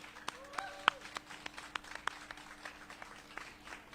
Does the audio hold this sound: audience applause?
yes